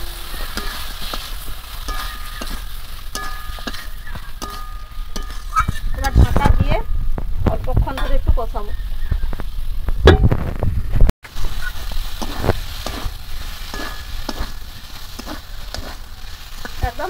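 Fried chicken liver and potatoes are stirred into sizzling masala in a pan, producing steady frying crackle with heavier thuds and scraping strokes in the middle and a constant sizzle throughout.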